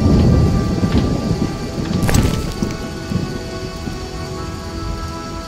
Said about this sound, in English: It rains and it pours.